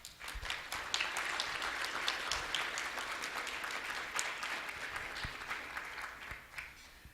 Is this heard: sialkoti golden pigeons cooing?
no